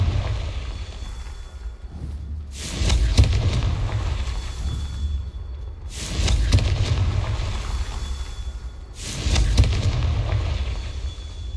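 Three Confringo blasting-spell explosions go off in Hogwarts Legacy, each a loud, deep booming burst spaced a few seconds apart over a constant rumbling background.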